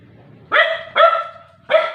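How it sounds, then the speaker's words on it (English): A dog barks three times, close and loud, in short evenly spaced bursts with brief quiet gaps between them. "My dog,"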